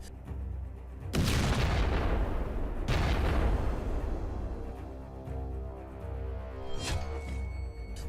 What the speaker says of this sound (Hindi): पुतिन के फायर से ब्लैक सी में धमाके ही धमाके हो रहे हैं।